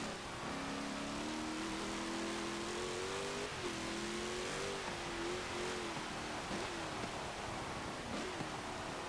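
A 2018 Jeep Grand Cherokee Trackhawk in Forza Motorsport drones at high revs through racing laps, its engine note rising and dipping with a few shifts and lifts, steady and loud with no talk.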